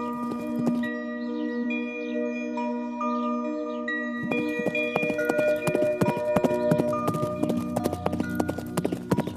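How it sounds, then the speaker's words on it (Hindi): A horse gallops in an animated children's story, its steady clip-clop hoofbeats running throughout over sustained tonal background music. "दौड़ शुरू हुई, घोड़ा आगे बढ़ा।"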